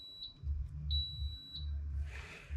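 A multimeter in continuity mode gives three short, high-pitched electronic beeps at uneven intervals over a low hum, followed by a brief rustle.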